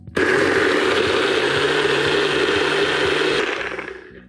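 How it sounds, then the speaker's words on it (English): A blender whirs loudly and steadily for about three seconds, blending a sauce, its motor grinding continuously before cutting off and winding down. "if you don't like the blending noise, please cover your ears"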